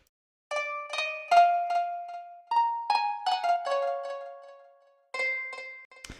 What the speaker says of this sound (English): The first of which is this Moon guitar, also in Labs.